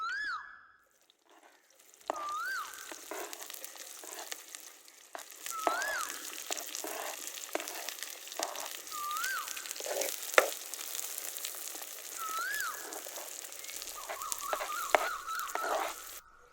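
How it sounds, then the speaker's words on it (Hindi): Onions frying in hot ghee for chicken biryani, a steady soft sizzle running throughout at moderate distance, with faint tonal chirps over it and no talk. "ये देखिए माशाल्लाह से प्याज अच्छे से पक रहा है"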